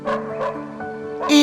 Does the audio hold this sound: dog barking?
yes